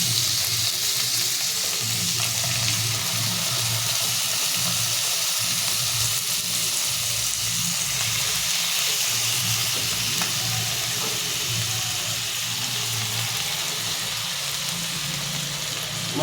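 Prawns fry in a kadai with a steady, loud sizzle and hiss of hot oil that runs continuously without pause.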